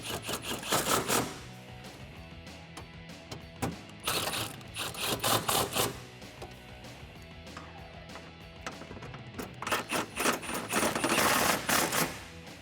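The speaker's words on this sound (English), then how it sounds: "Then we're just gonna bolt it down to where that mounting tray bolted down." Ratchet wrench bolting down the intake mounting tray on a 2014-2018 GMC Sierra 1500 5.3L during a K&N cold air intake install, several bursts of rapid clicking separated by short pauses, close up with no talk.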